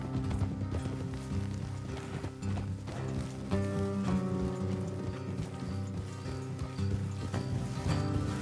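Steady clip-clop of horse hooves plodding along in a video game, under a continuous layer of music, with no talking.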